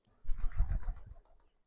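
A single short, low coo from a Shiraz pigeon while bathing, close and fairly soft, lasting about a second with no talk.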